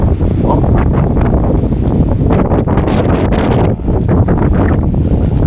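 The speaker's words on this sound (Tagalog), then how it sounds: "dahil sobrang lakas ng hangin" Loud, constant wind roaring and buffeting against the microphone on a cold hillside near a mountain, with gusty surges and no voices.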